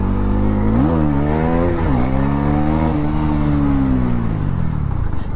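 A Bajaj Pulsar NS400Z motorcycle engine roars loud and close during a power wheelie, its pitch climbing through quick rev surges, then holding and slowly falling away.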